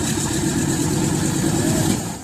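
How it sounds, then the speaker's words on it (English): A World War II–era C-47 radial engine waking up after ten years idle, a loud, close, continuous rumbling drone that holds steady before easing slightly at the end. "The radial engine is nothing like what we normally see these days."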